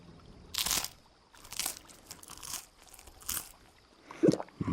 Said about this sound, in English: Munching, drinking sounds.